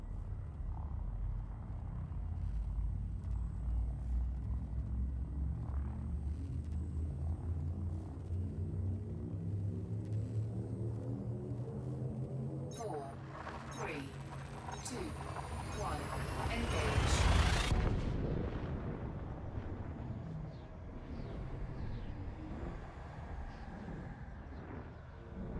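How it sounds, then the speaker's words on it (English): Frameshift drive in the Elite Dangerous space game charges with a deep rising rumble and swelling harmonic whine, then bursts into a roaring jump that fades away. A voice speaks over it. "Frameshift drive charging."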